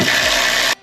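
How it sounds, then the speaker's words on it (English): A tool whirs loudly and steadily for under a second while removing a 10mm bolt from a 2020 Subaru WRX transmission, then cuts off abruptly into silence. "So I'm gonna take off these 4 10mm bolts."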